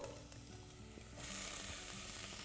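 Chopped leek for vegan potato patties frying in a pan, a steady close sizzle that grows sharply louder and brighter about halfway through and stays strong to the end, with no talking.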